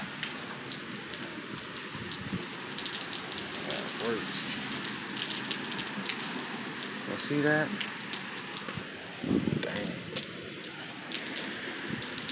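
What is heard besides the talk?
rain falling outside at night in Houston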